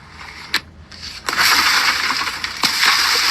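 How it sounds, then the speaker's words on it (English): A police officer smashes a car window: sharp cracking impacts followed by a crunching, scattering burst of glass, close and loud. "That was the sound of an officer smashing McNeil's window and punching him in the face."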